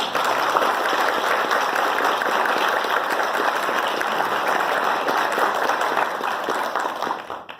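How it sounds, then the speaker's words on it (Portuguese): An audience gives a sustained round of applause for Professor Terezinha at an inaugural lecture, dense, even clapping from many hands lasting over seven seconds before tapering off at the end. "eu já quero pedir uma salva de palmas para a professora Terezinha"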